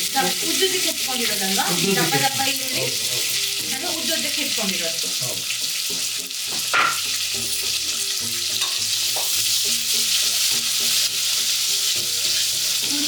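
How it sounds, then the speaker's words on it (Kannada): Sliced onions sizzle steadily in hot oil and ghee with whole spices for a mushroom pulao, a loud, continuous frying hiss with occasional stirring scrapes running the whole time. "ಈಗ ಈರುಳ್ಳಿ ಹಾಕ್ತೀವಿ. ಒಂದು 3 ಈರುಳ್ಳಿ, ದಪ್ಪ ಈರುಳ್ಳಿ,"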